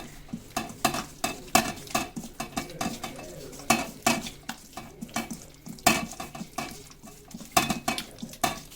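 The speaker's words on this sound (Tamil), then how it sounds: "நான் இதை வந்து கம்ப்ளீட்டாக மிக்ஸ் பண்ணிக்கிறேன்." Chicken being mixed with ingredients in a bowl for crispy fried chicken, a steady run of clinking, scraping and stirring strokes in an irregular rhythm, close and clear with no talking.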